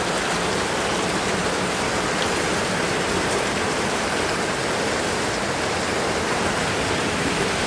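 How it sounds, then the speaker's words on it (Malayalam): Rainwater runs and rushes steadily nearby, a constant broad hiss like a small stream or runoff, unbroken and with no voices. "ഈ വെള്ളം ഒഴുകി വരുന്നതാണ്."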